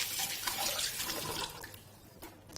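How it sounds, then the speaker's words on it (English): Tap water runs steadily into a sink while hands are washed beneath it during baking, a broad continuous splashing that thins out toward the end, with no talking. "Always washing my hands."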